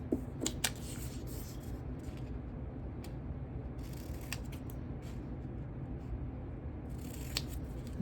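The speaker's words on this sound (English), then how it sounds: "cutting on the lines with our scissors" Scissors snip paper in a series of crisp, quiet cuts, the closing blades clicking in an irregular rhythm over a low steady room hum, with no talking.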